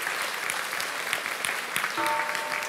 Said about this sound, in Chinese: 我们再次热烈掌声欢迎师